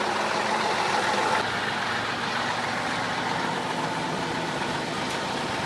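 A special forces vehicle drives past on a road in Vasylkiv, its engine a steady, moderately loud rumble and road hiss that eases slightly after the first second.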